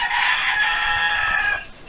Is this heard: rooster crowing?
yes